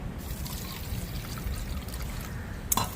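Lukewarm water poured into a bowl of flour and sugar for homemade chicken pizza dough makes a steady, close trickling pour, with a brief clatter near the end.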